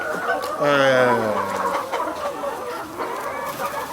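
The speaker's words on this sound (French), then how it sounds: "Cette poule, par exemple, nous l'avons enlevée" A hen in a poultry house gives a loud, drawn-out squawking cluck near the start, then softer clucks and barn noise continue while a person talks nearby.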